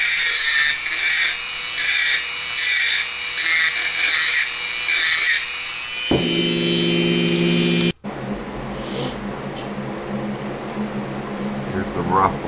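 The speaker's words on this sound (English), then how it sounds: "Here I am using a rapid burr to thin out the inside so the tires didn't drag." A rotary burr grinds the inside of a diecast Gran Torino model car in short, close, high-pitched whining bursts, followed by a steadier motor whir and a lower rasp.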